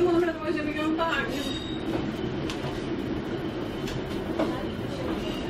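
A train at St Ives station on the Cornish branch line, a steady low rumble of rolling stock with faint wheel noise throughout, heard from on board or close by while people talk over it.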